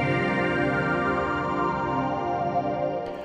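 A sustained synth chord layer built with the Citrus instrument in FL Studio for a recreation of the PlayStation 2 startup intro, a rich, shimmering drone with echo that holds steady and then fades near the end.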